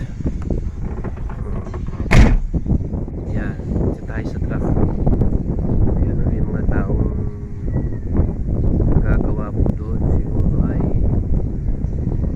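Gusty wind and drizzle roar over the microphone with a steady rushing wash, broken by a sharp knock early on; a voice talks underneath, in the hills of Bongabon, Nueva Ecija.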